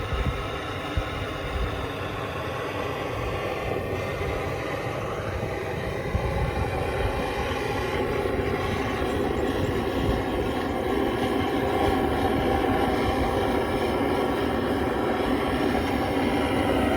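A vintage Lanz Bulldog tractor engine idles in a steady, droning rumble that holds evenly throughout, moderately loud and nearby, with no voices.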